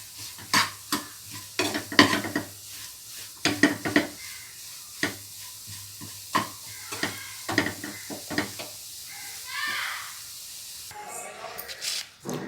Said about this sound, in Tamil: மிக்ஸ் பண்ணதுக்கப்புறம் இந்த ஸ்டஃபிங்க்கு தேவையான அளவு சால்ட் சேர்த்துக்கலாம். சால்ட்டு சேர்த்து நல்லா மிக்ஸ் பண்ணிவிடுங்க